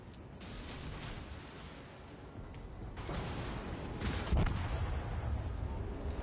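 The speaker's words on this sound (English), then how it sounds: "This Arizona really wants to shoot at me." Battleship Arizona's guns fire in a naval battle game, heavy booming shots rolling out over a constant engine and sea rumble, with a louder blast near the end.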